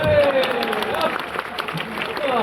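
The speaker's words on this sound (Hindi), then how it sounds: "इस बार मोदी जी के लिए तालियां बजाना।" A crowd at a comedy poetry event in Prayagraj during the Maha Kumbh claps in a steady, dense wash of applause, with cheering voices mixed in throughout.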